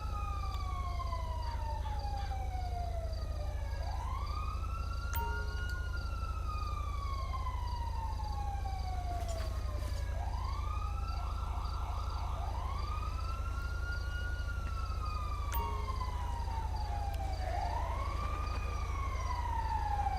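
Several emergency vehicle sirens in the video game GTA V LSPDFR wail continuously over a steady low hum, their rising and falling tones overlapping in repeating sweeps, with an artificial sound.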